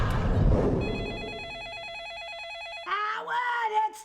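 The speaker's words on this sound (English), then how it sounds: "I know it's the phone, Ma. I hear the phone." A telephone bell rings loudly in a steady electronic warble after a burst of noise, then gives way to a voice speaking.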